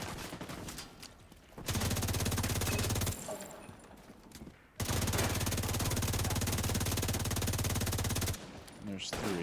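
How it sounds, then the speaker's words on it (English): Enemy gunfire in The Division 2 comes as two long, loud bursts of rapid automatic shooting. Quieter stretches of game noise sit between and around the bursts. "Where's this guy shooting me?"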